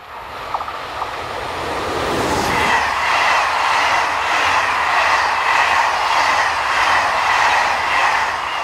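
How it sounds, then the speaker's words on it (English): SNCF BB15000 electric locomotive number 15051 approaches Motteville hauling a Paris to Le Havre passenger train, a rising rumble and rhythmic clatter of wheels building to a steady, loud roar as it nears and passes. "15051 approaches Motteville with a Paris to Le Havre service"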